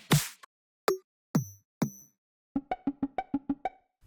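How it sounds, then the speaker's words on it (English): Drum fills from a Christmas pop track play alone: a few spaced, punchy hits, then a quick even run of about ten strokes, clean and close. "I also have these drum fills that play throughout the track."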